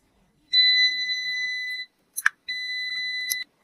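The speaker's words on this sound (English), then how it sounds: "Beep means connected. No beep indicates a break." A smart multimeter in continuity mode gives two steady high-pitched beeps about a second long each, with a brief click of the probes between them, close and clear with no other sound.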